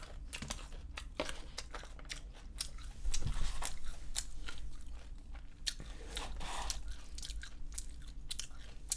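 Crunchy fried batter of a thinly sliced pork cutlet (tonkatsu) is bitten and chewed close to the mic, loud repeated crackling crunches in an irregular rhythm throughout, with no talking.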